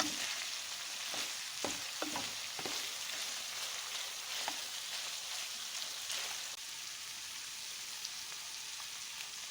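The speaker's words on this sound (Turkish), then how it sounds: "Biraz da salçamızı kavuralım." Tomato paste sizzles steadily in a hot pan, a soft, constant frying hiss with a few brief pops and stirring scrapes near the start.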